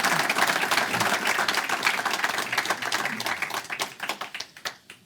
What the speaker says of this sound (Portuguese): peço uma salva de palmas para o Henrique.